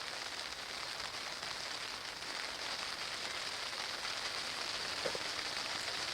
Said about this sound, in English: Rain just ain't letting up.